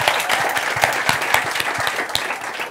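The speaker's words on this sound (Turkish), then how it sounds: "Alkışlıyoruz Mert'i." A studio audience on a Turkish late-night talk show claps for a guest named Mert, with brisk, dense applause that stays fairly close and even for a few seconds.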